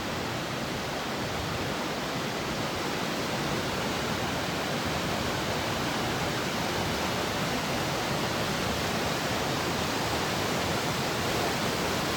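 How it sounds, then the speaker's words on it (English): Constant broadband roar of a rushing Colorado river, loud and steady for the whole stretch with no voices. "Oh man, the sound of that water is crazy."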